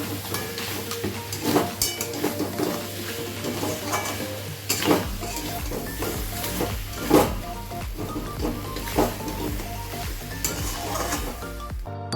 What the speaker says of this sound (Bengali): ভালো করে কষিয়ে নিয়েছি